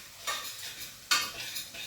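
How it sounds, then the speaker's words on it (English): Aromatics stirred in hot oil in a pot, a steady close sizzle with two sharper bursts as the spoon scrapes and turns the mix, no talking. "So just mix with that oil."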